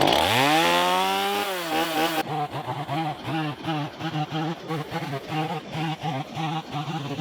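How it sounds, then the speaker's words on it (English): A gas chainsaw revs up loudly, then bogs into a cut through deck boards with a steady pulsing, rising and falling whine as it chews through wood. "we're gonna cut it out with the chainsaw"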